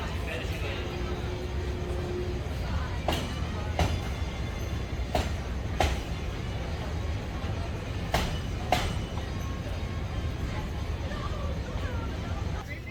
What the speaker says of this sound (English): capture a little footage there of the Disneyland Railroad